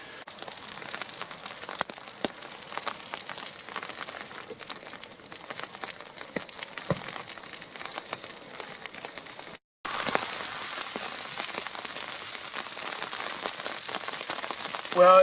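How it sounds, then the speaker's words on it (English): Heavy rain drumming steadily on an umbrella over an outdoor rocket stove, a dense continuous hiss with scattered sharper drop hits, briefly cutting out then returning just as loud. "Well, it's really raining now."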